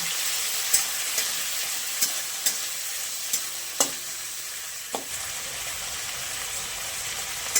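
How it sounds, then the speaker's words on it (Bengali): Prawns coated in salt and turmeric fry in hot oil with a steady, close sizzle, broken by several sharp utensil taps and scrapes against the pan. "নুন হলুদ মাখানো চিংড়ি মাছগুলো এবার দিয়ে দেবো। চিংড়ি মাছটা ভেজে নেব।"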